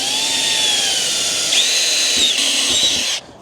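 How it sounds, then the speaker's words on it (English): A power drill bores holes in a switchboard panel during rewiring after a house fire, a steady high whine held close and loud for about three seconds before cutting off sharply. "let's drill our holes."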